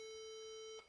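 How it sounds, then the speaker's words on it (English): A broken gaming laptop gives off a single steady electronic beep tone, loud and unbroken for most of a second before cutting off, with no voices. "We got lots of beeping."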